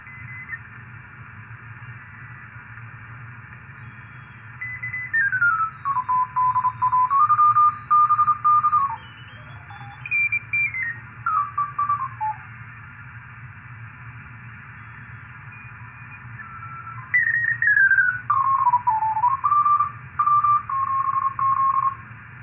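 CW Morse code tones from a homebuilt 40-meter QRP SSB transceiver come in bursts of keyed beeps that drift in pitch. They play over a steady hiss, with quiet gaps between the bursts.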